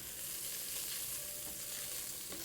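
Onions frying in a pan give off a steady, close, dense sizzle that holds evenly throughout, with faint scraping hints of stirring beneath the crackle.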